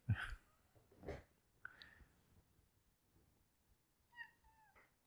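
A cat in a TV episode meows several times, separate faint cries spread apart with quiet between them, the last a higher drawn-out call.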